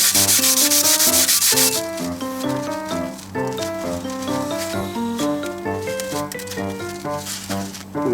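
Close, rhythmic rasping strokes of 40-grit cloth sandpaper rubbed across a brake rotor, the scraping turning into sustained squealing, ringing tones as it continues.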